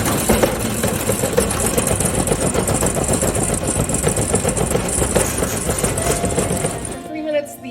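A commercial greens spinner whirls freshly washed greens dry on a farm, giving a loud, continuous mechanical whir with a rapid rattling pulse throughout, then cutting off abruptly near the end.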